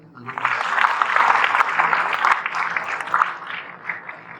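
Audience applause at a college welcome party at a campus in Sialkot, a dense burst of clapping that swells and then thins over a few seconds, with a faint voice underneath.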